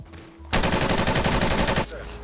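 A loud, sustained burst of rapid automatic gunfire from a Call of Duty gun rattles on for over a second, then cuts off to quieter game ambience.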